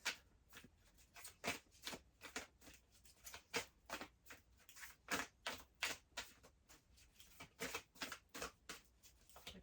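Cards being shuffled and riffled close up, a quiet run of quick papery flutters and soft slaps repeating in a steady rhythm with no talking.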